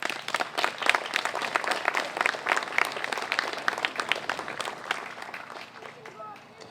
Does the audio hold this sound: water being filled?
no